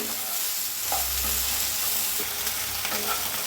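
Okra roasting in a pan gives a steady close sizzle, broken by a few stirring scrapes and clinks, with no voices.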